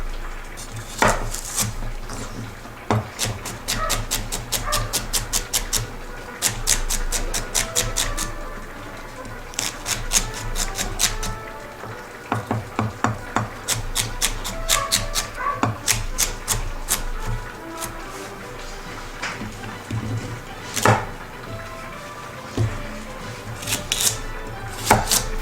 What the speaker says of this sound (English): we're going to cut the celery